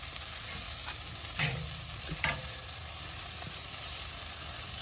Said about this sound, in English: That sizzling.